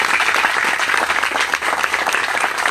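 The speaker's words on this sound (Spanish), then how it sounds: "Un aplauso para ellos" Sustained audience applause at a municipal low-cost milk program launch in Cuauhtémoc, dense steady clapping from a crowd filling the whole moment at close range.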